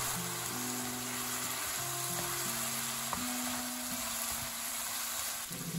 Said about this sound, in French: Mettre la sauce soja. Remuez pendant 1 à 2 minutes.